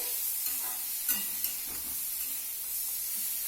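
Bitter gourd and bori (sun-dried lentil dumplings) frying in a pan, a steady close sizzle with occasional stirring scrapes and small pops, no talk over it.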